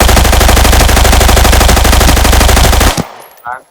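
An RPK machine gun in the video game Arena Breakout fires a long, loud, rapid sustained burst that cuts off abruptly, followed by a brief quieter sound.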